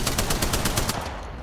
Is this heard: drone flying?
no